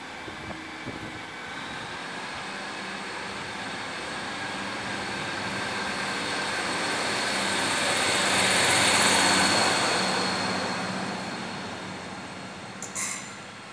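A Class 153 diesel railcar, unit 153374, passes through Lincoln Central station, its steady rumble and rolling hiss swelling to a peak midway and then easing off, with a brief squeal near the end and no talk.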